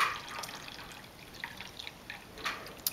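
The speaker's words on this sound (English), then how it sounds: "So we'll catch that water coming out." Water trickling and dripping out of a magic pitcher into a container below, a faint steady splashing wash with scattered small drip accents, no voices.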